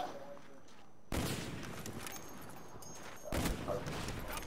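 Two loud, sharp sniper rifle shots in Black Ops 1, a quickscope 1v1 match, ring out about two seconds apart with broadband reverberant tails over steady game ambience.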